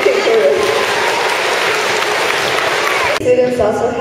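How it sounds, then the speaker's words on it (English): Sustained audience applause at a school assembly honoring students with perfect attendance, loud and continuous clapping from a crowd throughout, with a brief dip near the end before resuming. "Let's clap for all the students who haven't missed a day of school during"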